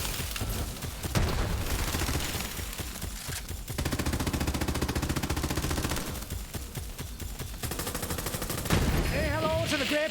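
Sustained automatic gunfire from the video game Borderlands 3 runs in long dense bursts with brief pauses between them, loud and continuous, layered with in-game effects.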